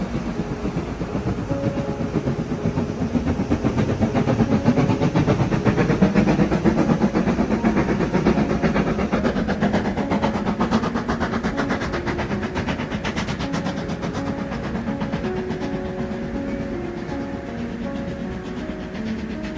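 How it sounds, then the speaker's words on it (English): A train rolls past on a Scottish line with a steady rumble and rhythmic clickety-clack of wagons over the rails, loud and continuous throughout. "we were in the perfect location when the train came by"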